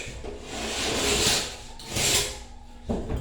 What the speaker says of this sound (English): the blade of your knife usually is all you need to clean up your edge.